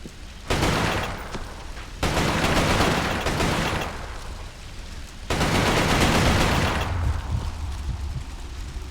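Weapon fire from the PS3 game Resistance: Fall of Man comes as loud, dense sustained bursts of automatic gunfire in three long volleys with brief gaps between them.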